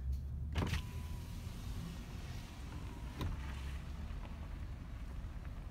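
A car rolls slowly across rural acreage near Bull Shoals Lake to park. A steady low engine rumble and wind noise carry throughout, with a couple of brief knocks or bumps.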